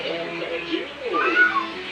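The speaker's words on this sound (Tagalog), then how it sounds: "Ayan ang aming pusa." A pet cat indoors at home meows in a couple of drawn-out, wavering calls, close and clear, with a faint background hum.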